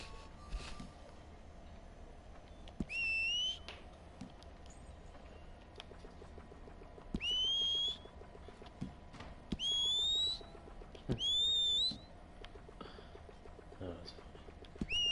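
A player whistles repeatedly in the Red Dead Redemption Online video game. Four bright, rising whistle calls sound at intervals over quiet background noise, with faint horse clip-clops and occasional talk.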